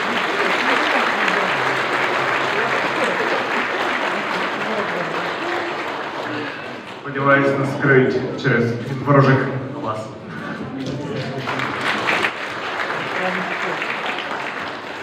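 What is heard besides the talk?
audience applause at an awards ceremony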